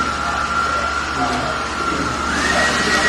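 A noisy blower whirs steadily at close range, holding a constant droning tone that shifts slightly higher near the end, with faint background murmur.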